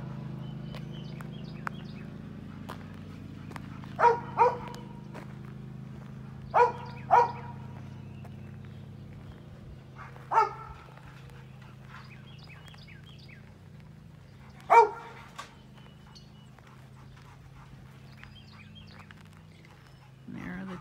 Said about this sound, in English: Two gorgeous little doggies, Shiloh and Lucy.